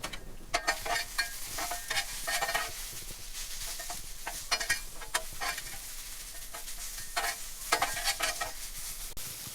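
Sliced chuck roast beef sizzles on a hot griddle for Philly cheesesteaks, with a steady crackle broken by repeated scraping and stirring strokes of a spatula, close and clear.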